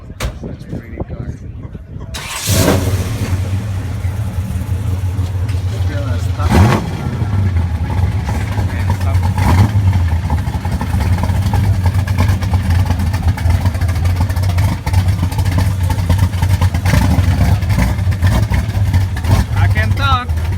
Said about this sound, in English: So many loud exhaust around me.